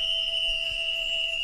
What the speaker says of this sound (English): let's use our harvest whistle once again